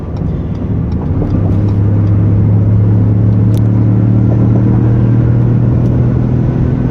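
A 2015 Ford F-150 Lariat with a 3.5 liter EcoBoost engine accelerating, a loud, close, steady low rumble that swells slightly and holds strong, with no voices.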